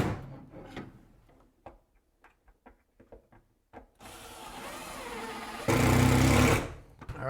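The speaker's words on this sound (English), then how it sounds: "Put the rest of the screws in there." A screw gun drives screws in during a Seaside Victorian cottage landscaping job in cold weather: short intermittent clicks and bursts, then two longer sustained whirring runs, the second louder.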